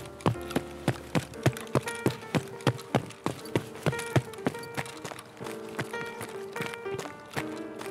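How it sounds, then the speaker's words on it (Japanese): Footsteps in the video game Escape from Tarkov, a regular run of sharp, fairly loud steps with a hard clopping quality that keep a steady rhythm, then soften and grow busier toward the end. "足音するね。"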